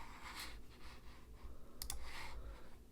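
Sharp mouse clicks at close range inside 3D printing slicer software, a few scattered single clicks and a quick double click near the end over a quiet room hum.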